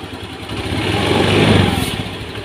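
A Honda Beat scooter engine with a rough, sluggish starter idles close by with a steady rumbling putter that swells slightly in the middle, with no voices.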